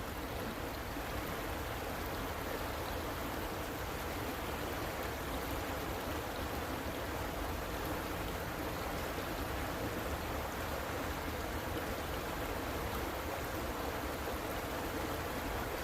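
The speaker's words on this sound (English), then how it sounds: "All this running water sound." A winter creek runs steadily nearby, its broad, even rushing wash unbroken for the whole stretch with no voices over it.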